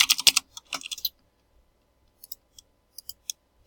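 Password being typed on a computer keyboard: a quick burst of clustered keystrokes, then a pause and a few scattered, sharper key clicks, close and clear with no talk.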